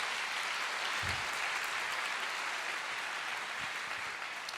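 A church congregation applauds in a continuous, even wash of clapping that fills the room, with a couple of soft thumps and no voices standing out.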